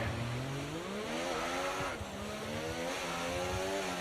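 An F1 race car engine in the F1 24 game screams steadily at high revs, its pitch rising and dipping with throttle changes, loud and continuous with no talk.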